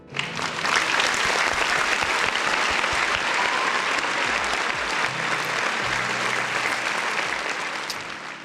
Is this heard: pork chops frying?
no